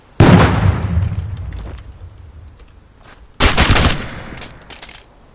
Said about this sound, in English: Oh, we have a breaching charge as well. We could try that.